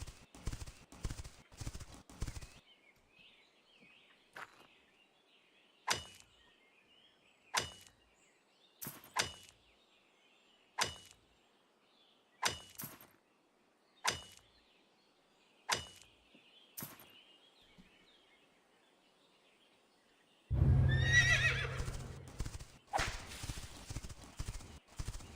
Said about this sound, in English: Why do the horses have to be so damn noisy?